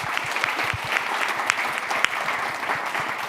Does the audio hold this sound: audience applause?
yes